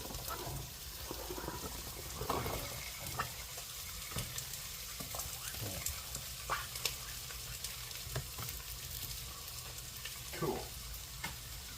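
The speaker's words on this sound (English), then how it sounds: "So now I want to add our potatoes." Potatoes sizzle and crackle steadily as they are dropped into a hot frying pan while making minestrone, with scattered stirring clatters and a brief spoken word over the frying.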